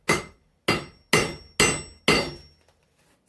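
Spring steel is hammered flat on an anvil while forging an axe: five loud, evenly spaced ringing blows, each decaying quickly, close up with no speech.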